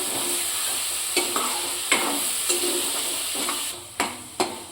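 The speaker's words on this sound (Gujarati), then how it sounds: "ડુંગળીનો કલર ચેન્જ થાય ત્યાં સુધી આપણે આ રીતે શેક્યા કરીશું ડુંગળીને" Chopped onions sauté in a pan over high heat for a shahi paneer curry, a constant sizzle broken by several sharp spatula scrapes and taps that grow louder toward the end, with no voices.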